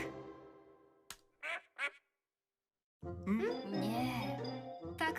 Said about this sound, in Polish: Tak kwacze kaczka.